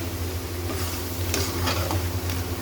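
Onion, ginger, garlic and chili masala for white chicken karahi fry in a pan, a constant dense sizzle with a low steady hum beneath and occasional soft stirring scrapes, no talking.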